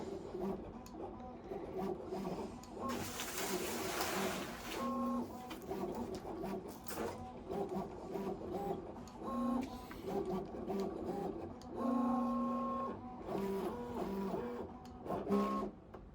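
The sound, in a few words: Loklik iCraft cutting machine running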